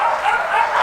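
A dog at an elephant sanctuary in Unawatuna, Sri Lanka, gives a close, continuous whining, yelping bark-like cry that holds steady for just under a second.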